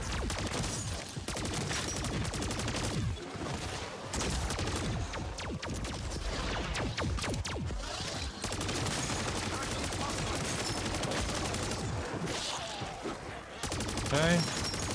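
Holger gun in MW3 Zombies firing in long sustained automatic bursts, dense rapid shots almost continuously for many seconds, with brief breaks and a few impacts toward the end.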